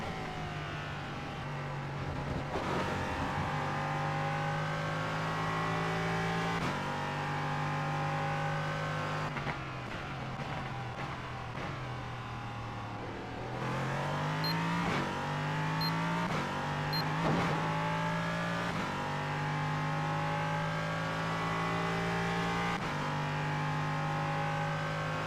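LMP3 prototype race car engine in the iRacing simulator, a loud, sustained high-revving drone that repeatedly climbs through the gears, drops with each shift and climbs again, with no talk over it.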